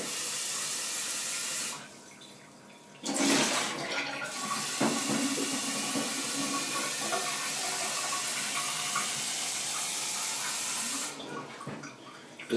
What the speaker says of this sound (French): Maintenant, on remplit uniquement d'eau.